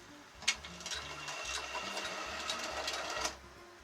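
The motor of a 1975 Tyco Chattanooga 2-8-0 HO scale model locomotive, freshly cleaned and lubricated, runs with a quiet, steady mechanical whir and a faint rhythmic clicking for a few seconds.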